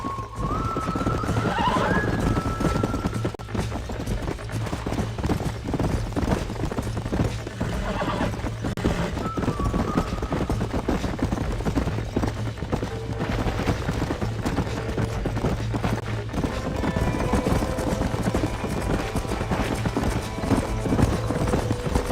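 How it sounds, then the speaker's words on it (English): Horses whinny and neigh several times in the video game Red Dead Redemption over a steady rhythmic clip-clop of hooves, with a low drone underneath throughout; no speech. "These are fine horses."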